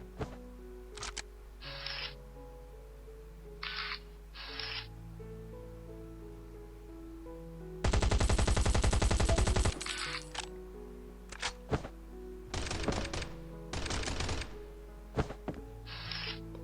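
Gunfire in the survival video game Last Island of Survival, with a long burst of automatic fire and a shorter second burst, set among scattered clicks and short game sounds over a steady low hum.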